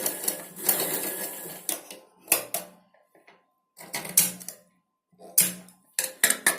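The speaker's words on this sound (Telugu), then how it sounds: "అది లాస్ట్ ఇలా పెట్టుకొని స్టిచ్చింగ్ చేసుకోవచ్చు" Sewing machine stitching petal designs (moggalu) for a blouse, in several loud close bursts of rapid needle clatter separated by silent pauses, with no talk.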